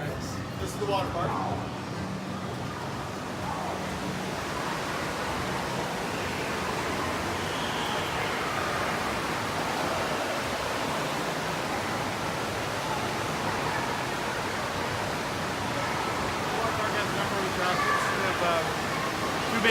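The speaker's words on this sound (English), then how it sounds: "This is the water park." A water park with tube slides and body slides gives off a steady, broad rush of splashing and falling water from nearby pools and slides, continuous and even, while a person talks over it.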